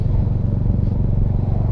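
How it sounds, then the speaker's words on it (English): A Royal Enfield Hunter 350 motorcycle engine settles at lower revs after an upshift into fourth gear while riding at around 50 km/h, giving a steady, loud, close low thrumming rumble with no talk. "The engine revs drop right down."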